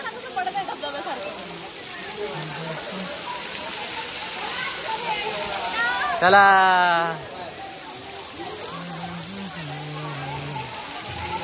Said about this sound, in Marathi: पाऊस नाहीये पण पाणी बघा ना कसं पडत आहे धबधब्यासारखं